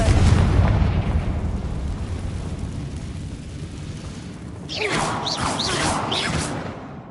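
A Confringo blasting spell in Hogwarts Legacy detonates with a loud, close boom that rolls into a long rumbling decay, then a fresh burst of crackling, whooshing debris.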